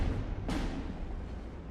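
A single distant artillery shot booms in Steel Division 2, a broadband thump at about half a second that rolls off into a low rumble over steady battlefield background noise.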